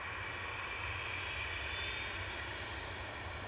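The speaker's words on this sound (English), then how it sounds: "A little Embraer Legacy 600 for AirX." An Embraer Legacy 600 business jet for AirX arriving at Manchester Airport from Biggin Hill, a faint, steady engine hum with a high whine running through it, unbroken and without talk.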